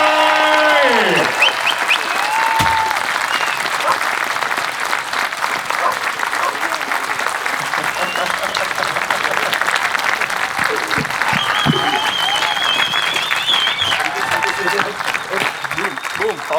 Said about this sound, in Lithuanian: Aplodismentų rokai!